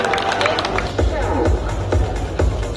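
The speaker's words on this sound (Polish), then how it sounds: "I brawa, proszę Państwa, brawa dla tej wspaniałej córki." Audience applause at an international Polish bodybuilding championship, a steady wash of clapping and crowd noise from a large hall with a few louder bursts, continuous throughout.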